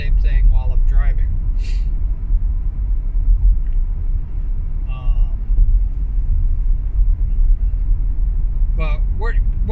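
A car being driven, with a steady low road rumble and engine drone running throughout while a person talks over it in short stretches.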